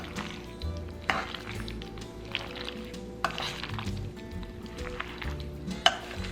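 Marinated beef being mixed with cornstarch in a bowl, soft wet stirring with scattered clinks of a utensil against the dish, close and quiet, with no talk.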